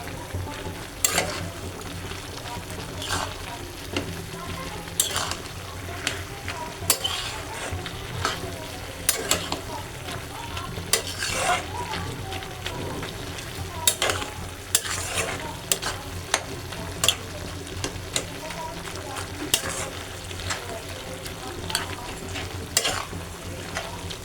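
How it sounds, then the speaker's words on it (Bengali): Shrimp curry with malabar spinach sautéing in a pan, a steady sizzle with repeated scraping stirs at an irregular rhythm throughout, close and moderately loud, no talking. "আমি এইভাবে একটু কষাইয়ে নেব তরকারি।"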